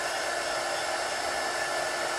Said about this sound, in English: this is how I cure my DTF. I just use a heat gun.